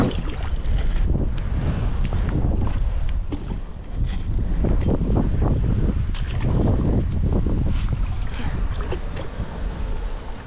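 Strong, steady wind buffets the microphone while a paddleboard moves upriver at night, a continuous loud roar with gusty swells and faint water sloshing beneath.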